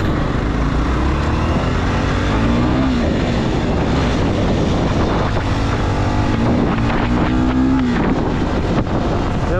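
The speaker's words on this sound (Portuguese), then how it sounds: "Vamos rodar um pouquinho, ver o motor dela." Honda Tornado 300 motorcycle engine revving and pulling hard on an off-road trail, loud and steady with rising and falling pitch and heavy wind buffeting throughout.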